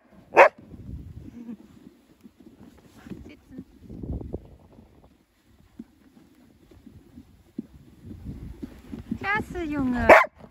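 A Dutch shepherd pulling a sled, with a Tervueren riding, gives a sharp bark at the start and another near the end, while people talk quietly in German between the barks.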